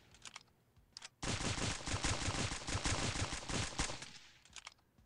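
The Heavyfire gun in Stick Warfare Blood Strike fires a loud, rapid continuous burst lasting about three seconds, with a few fainter shots before and after, and no one speaking.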